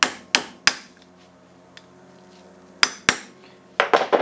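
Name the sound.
tapping a frozen bearing in with a 13 mm socket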